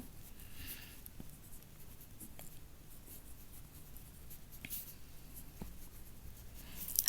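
A hand writing out a compound-interest calculation on paper, a faint scratchy rustle of pen strokes that comes in short bursts with small taps, quiet and close with no talking.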